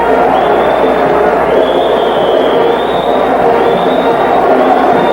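Dense, steady roar of a basketball arena crowd of Illinois State fans at a game against Bradley, a continuous wash of murmuring and shouting with no pauses.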